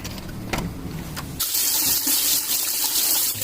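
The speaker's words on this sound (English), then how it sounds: "you're going to hear all kinds of spitting, spattering with the air coming through" Water starts rushing and spattering loudly from a pipe of a 20-gallon GE water heater as air purges, a steady hissing gush with irregular sputters after a few faint knocks.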